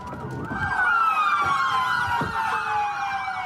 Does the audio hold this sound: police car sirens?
yes